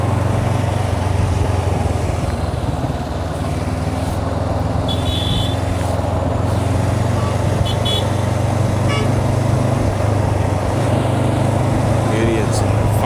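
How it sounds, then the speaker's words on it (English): Car horns toot in short scattered bursts on a highway outside Hanoi, Vietnam, over a loud constant engine drone and wind rush heard from a moving motorcycle. "Idiots fucking honking."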